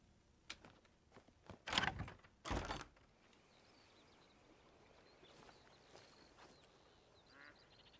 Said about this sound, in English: And there's the quacking again.